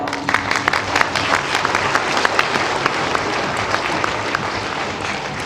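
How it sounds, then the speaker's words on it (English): Audience applause for Chinese American actors at a 2006 salute event, a dense, steady crowd clapping that holds at full strength for the whole stretch with no voices over it. "so let's give them another round of applause."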